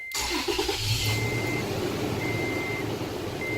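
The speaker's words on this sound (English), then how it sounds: "now our truck will start" A pickup truck starting up by long-range remote start, with a mid-pitched engine turning over and settling into a steady idle, joined by a repeating electronic beep.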